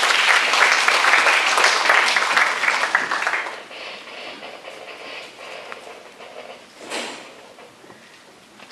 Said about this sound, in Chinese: 我们再一次掌声谢谢他们今天非常成功的演出。